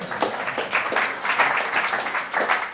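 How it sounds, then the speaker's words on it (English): Applause from a small business-conference audience, a short patchy burst of clapping of moderate loudness with uneven swells, lasting a few seconds. "Give yourselves a round of applause."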